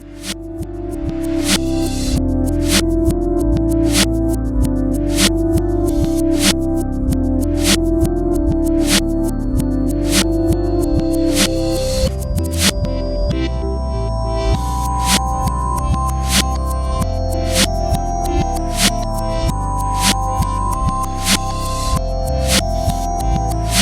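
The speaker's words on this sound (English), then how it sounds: "add a bunch of delays, just one little feedback ping at differing times and at decreasing mix amounts" Layered delay feedback pings set at staggered times and falling mix levels build a dense, reverb-like wash over a sustained tonal sound, with a steady stream of sharp repeating pings throughout at strong, even loudness and no voices.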